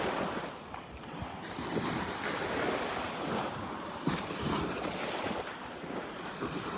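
Ocean waves wash steadily onto a beach in North Naples, Florida, a continuous broad surf roar mixed with gusty wind buffeting the microphone, with no voices.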